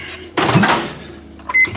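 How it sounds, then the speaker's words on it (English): A microwave oven cooking egg whites hums loudly up close after a short quiet start, with a brief clunk and a sharp beep-like tone near the end. "So what we do is chuck it in the microwave."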